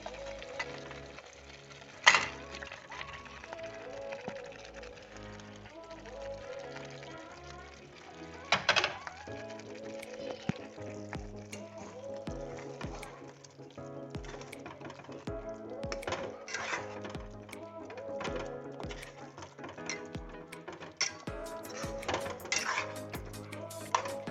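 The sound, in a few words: fried chicken added to tikka masala in pan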